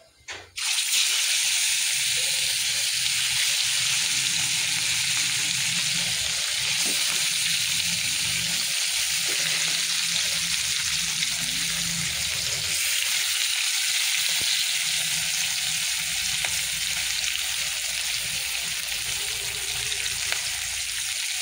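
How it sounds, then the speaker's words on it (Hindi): Fish frying in hot oil, a loud, dense, continuous hiss and crackle that starts abruptly and holds steady for about twenty seconds, close up, with no talk. "आ माछ सब भाजीदबा"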